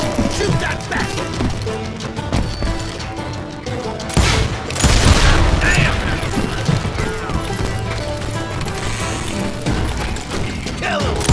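Gunfire and crashing impacts fill a chaotic Call of Juarez: Gunslinger firefight, with a dense mix of shots, thuds and a heavier burst near the middle, while voices talk over the action.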